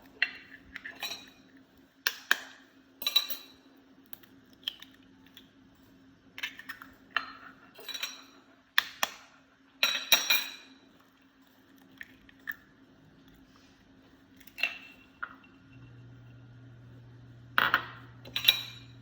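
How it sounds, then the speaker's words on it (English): Three eggs beaten with a pinch of salt in a bowl for egg kebabs, heard as irregular clinks and taps of a utensil against the bowl with quiet gaps, under a faint steady hum. "Now beat 3 eggs and add 2 pinches of salt."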